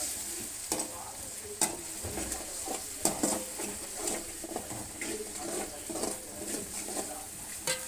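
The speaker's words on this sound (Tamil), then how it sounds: "இதோட பச்சை வாடை போகிற வரையும் நல்லா கிண்டணும் சார்." A spoon stirs cauliflower masala in a pan: soft scraping strokes and irregular clicks over a steady low sizzle, close and quiet, without speech.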